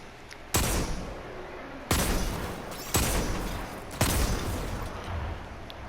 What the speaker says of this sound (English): we're going to move to the steady hand, which is a 120 hand cannon